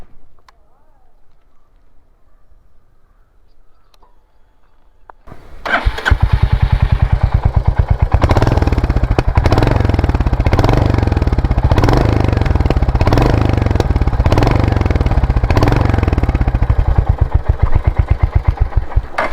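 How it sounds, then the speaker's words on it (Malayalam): A modified 2024 Royal Enfield Hunter 350 with an aftermarket exhaust sits quiet for about five seconds, then fires up loudly and settles into a steady, thumping idle with a rapid pulse and a few throttle blips, close to the microphone. "ഞാൻ എക്സോസ്റ്റ് നോട്ട് ഒന്ന് കേൾപ്പിച്ചു തരാം."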